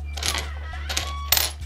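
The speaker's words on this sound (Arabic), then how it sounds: "العملات القديمة هذين رومانيات ها؟" Old Roman gold coins recovered from the sea clink together as they are handled in a market in Zuwara, Libya, giving several bright metallic chinks over a steady low hum.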